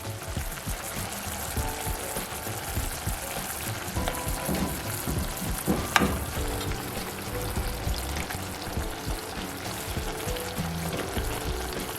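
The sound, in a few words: fish added back into simmering curry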